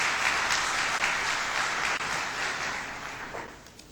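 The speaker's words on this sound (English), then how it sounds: "please give him a big round of applause" Steady applause fills a conference hall as a speaker is welcomed at a CFO conference in Lahore, a dense, even wash of many clapping hands that holds, then tapers slightly.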